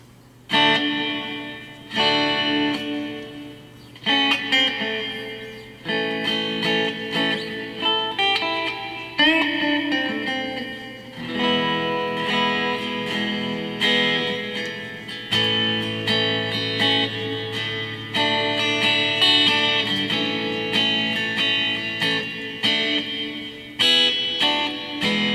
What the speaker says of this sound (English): And finally, hall reverb.